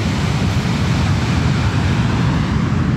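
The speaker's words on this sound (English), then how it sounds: "Look at those waves." Rough, heavy ocean surf pounds the beach at Puerto Escondido in Oaxaca, Mexico, a loud continuous roar of breaking waves with wind noise and no voices.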